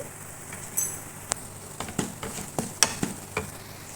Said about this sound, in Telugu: అల్లం వెల్లుల్లి తురుము కూడా ఫ్రై అయిపోయింది